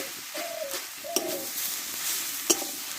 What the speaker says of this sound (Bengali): ফ্রাইং করে কপিটা ভালোভাবে কষে নিয়েছি